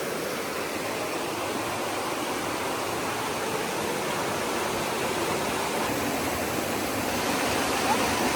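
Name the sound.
river flowing beside the Appalachian Trail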